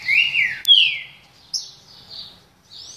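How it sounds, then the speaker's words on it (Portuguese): A green-winged saltator sings clear, whistled phrases, several bright rising and falling notes in short bursts with brief pauses, fairly close against a quiet outdoor background. "passarinho já cantou lá embaixo."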